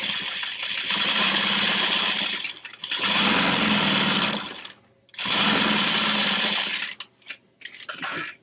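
A sewing machine bastes handbag fabric in place, running in three loud bursts of a few seconds each with short pauses between them, then a few faint clicks and taps as it stops.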